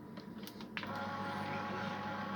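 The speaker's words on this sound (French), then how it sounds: "Donc j'allume ma turbine, il va y avoir un petit bruit de fond." A sorbet turbine ice cream machine churning bergamot sherbet, a steady broadband motor whir that starts after a few faint clicks and runs on evenly and fairly loud.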